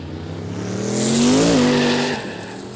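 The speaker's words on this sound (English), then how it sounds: "That trayback, you can hear it just on the tyre, just fighting that traction." A trayback ute at a Kooralbyn Valley quick street day squeals its tyres as they fight for traction. The loud tonal screech rises and bends over about two seconds under steady engine roar.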